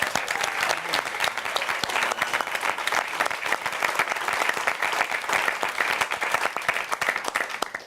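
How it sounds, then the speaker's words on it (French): Steady, dense audience applause from a quiz-show crowd, many hands clapping at once and holding an even, loud level throughout without pause. "Ça s'applaudit."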